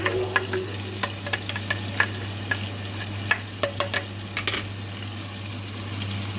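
Chopped ginger, garlic and onion are stirred in a frying pan, a spatula scraping and clicking in irregular bursts over a low, steady sizzle and a constant hum.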